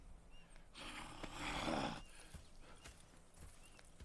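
Horse hooves clopping and shuffling in the video game Red Dead Redemption 2, with a brief snort or whinny, close by, swelling in the middle then settling to quieter movement.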